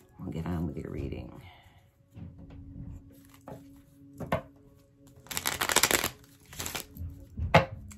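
Tarot cards riffle and slap together in several quick bursts up close, with softer shuffling between and a voice speaking at times.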